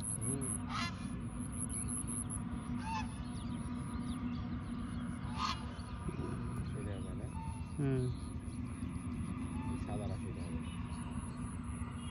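Geese honk in short, scattered calls near a village wetland where people are fishing, with a few brief honks rising over steady outdoor background noise while people talk throughout.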